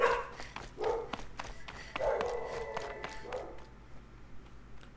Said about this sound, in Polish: To, co tam w tle szczeka, to mój bardzo agresywny pies.